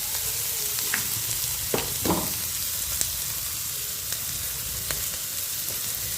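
Pasta frying with turmeric in a pan, a continuous even sizzle with a few scraping stirs and light clicks of the spoon against the pan, close and steady, with no voices.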